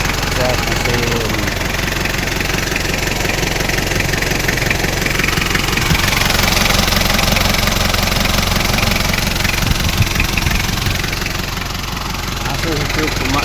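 An Isuzu Panther with a 2.3-litre diesel engine idles steadily up close, giving a rough, rapid knocking clatter with a constant vibrating hum throughout.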